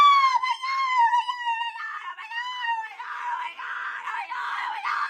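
A voice imitates a woman screaming from a 1970s movie, with a long, high, wavering wail that breaks into strained cries, loud and alone.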